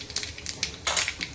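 Mustard and cumin seeds crackle in hot oil during tempering. Several short, sharp pops and spits sound close by within about a second, with no talk.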